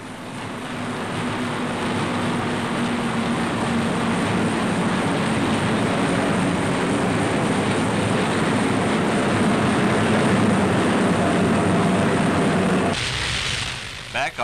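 Multi-engine droning of B-29 Superfortress bombers cruising over Tokyo amid bursting anti-aircraft shells, a steady loud continuous roar that cuts off abruptly near the end.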